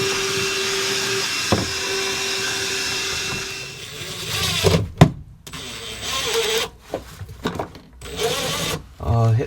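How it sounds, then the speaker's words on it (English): A vacuum cleaner hums steadily inside a narrowboat, then breaks into uneven bursts and thumps as it knocks around, with stops and restarts near the end. "I could have hoovering under it as well."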